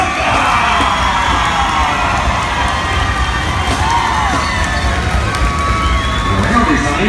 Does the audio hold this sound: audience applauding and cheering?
yes